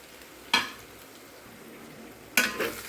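Ginger, garlic and green chili paste drops into softened onions frying in a pan for Hyderabad biryani, giving two sharp clattering hits over a faint, steady sizzle.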